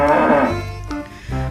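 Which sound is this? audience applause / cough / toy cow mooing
toy cow mooing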